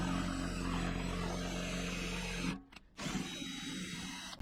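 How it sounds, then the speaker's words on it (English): A power drill whines steadily while boring out a gas tank lock keyhole with progressively larger bits, a sustained motor tone that cuts out briefly, then resumes slightly thinner. "I'm gonna just keep on upgrade and drill bit size until the hole is big enough for me to pretty much take the gas tank lock out"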